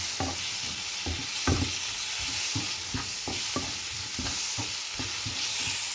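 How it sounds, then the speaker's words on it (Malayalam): Tomato being sautéed in a pan for a restaurant-style fish curry, with a steady sizzle and repeated stirring scrapes at an uneven beat, close and fairly loud, no voices. "ഇനി നമുക്ക് എടുത്ത് വെച്ചിരിക്കുന്ന ഒരു തക്കാളി അതിലേക്ക് ഇട്ട് കൊടുക്കാം. അതൊന്ന് നല്ലതായിട്ട് വഴറ്റിയെടുക്കണം."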